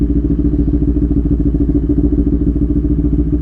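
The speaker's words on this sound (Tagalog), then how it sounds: "daming mabibigat na motor dyan" Heavy motorcycles on a road on a ride toward Alabang, with a steady, loud, close engine drone and a low throbbing pulse running without a break and no talk.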